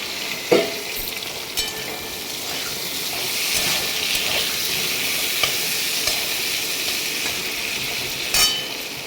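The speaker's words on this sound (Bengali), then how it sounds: "তো দেখো আলুটা ভাজা হয়ে গেছে" Potatoes fry in a pan with a continuous sizzle, broken by occasional scraping and stirring knocks of a utensil.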